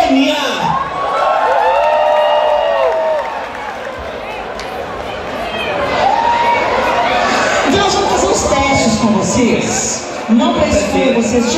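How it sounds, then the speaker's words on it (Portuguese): A lively audience at an evangelical fashion-tips comedy show cheers, whoops and shouts continuously, a loud crowd roar with voices rising over it throughout. "Pode aplaudir muito"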